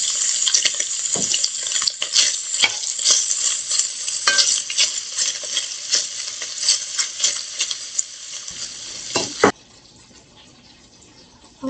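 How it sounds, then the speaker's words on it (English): Kielbasa frying in olive oil in a hot pan, a steady loud sizzle with stirring and scraping clatter throughout, fading abruptly to a quieter hiss near the end. "Put in a little bit of olive oil. Then I'll put my kielbasa in there."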